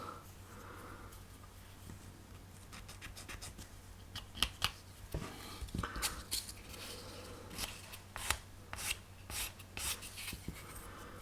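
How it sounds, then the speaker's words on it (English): Scraping a seam smooth on a 22-inch Eagle 1 spaceship model from Space 1999, a series of short dry rasping strokes, close and fairly quiet, in irregular bursts over a low steady hum. "and then once again we're scraping."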